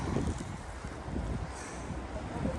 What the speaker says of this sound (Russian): порыв ветра.